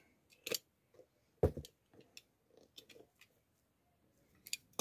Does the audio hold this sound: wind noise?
no